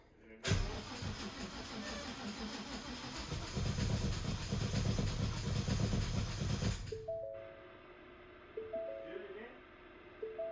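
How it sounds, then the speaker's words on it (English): A Ford 5.0 crate engine in an S550 Mustang cranks with a loud, rough, rhythmic churning for several seconds and then cuts off, leaving a quieter stretch with a few faint tones. "we'll get a little crank on it and see what it does"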